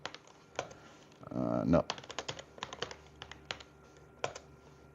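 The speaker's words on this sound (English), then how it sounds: "hit these keys and that key hits that back plate" Keys clatter in quick, irregular bursts on an IBM ThinkPad 356XD laptop's rubber dome keyboard, close and moderately loud, with a brief spoken word partway through.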